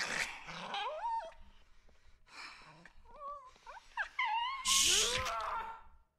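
A dog growls and whimpers in a scene from the 2014 horror film The Babadook, the strained canine sounds rising and falling amid movie audio, with a sharp loud burst near the end.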